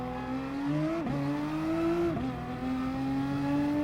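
A Nissan Gr.3 race car in Gran Turismo laps Suzuka, its engine howling in a steady high rev that rises, dips sharply at two gear shifts, then climbs again, loud and close with no voices.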